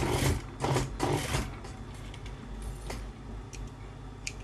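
Sewing machine stitching a folded-up hem on a lined garment, with bursts of fast mechanical running near the start, then quieter, intermittent stitching and light clicks.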